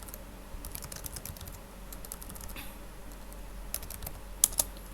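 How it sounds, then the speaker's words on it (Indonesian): Rapid, light typing on a computer keyboard, soft continuous key clicks with a couple of sharper taps near the end, quiet and close. "Kemudian teman-teman ketikkan misalkan editor Bu Rini."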